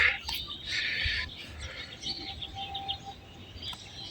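Pigeons calling and fluttering around a house rooftop, with soft chirps and coos over outdoor background noise, a few brief louder calls nearby.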